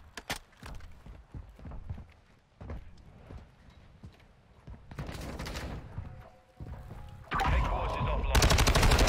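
Bursts of gunfire in the video game Modern Warfare 2 crackle in scattered bursts, then build into dense, sustained automatic fire that grows louder toward the end, with a voice speaking at times.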